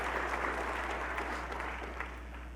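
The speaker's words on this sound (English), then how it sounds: "Can we give another round of applause to John?" A conference audience applauds a security talk speaker, quiet and distant, with a soft, even wash of clapping over a low steady hum that thins slightly toward the end.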